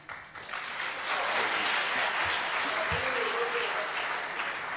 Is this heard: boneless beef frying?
no